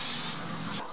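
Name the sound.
insect repellent spray being sprayed against mosquitoes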